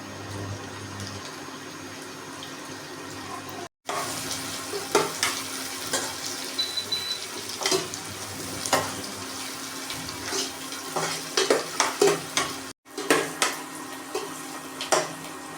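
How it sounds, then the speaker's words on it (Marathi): Chopped onion fries in a pot after cumin and mustard seeds have crackled, for a Maharashtrian whole masoor dal, a steady sizzle punctuated by frequent spoon scrapes and clicks, with short breaks and no speech. "कांदा आपल्याला चांगल्या प्रकारे भाजून घ्यायचा आहे"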